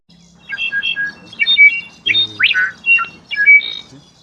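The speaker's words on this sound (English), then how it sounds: "The slate-colored solitaire sings with a voice that feels almost unreal, like water dripping into a deep, echoing cave." A slate-colored solitaire sings clear, flute-like whistled phrases in short bursts with brief pauses, ringing and slightly echoing, close and alone.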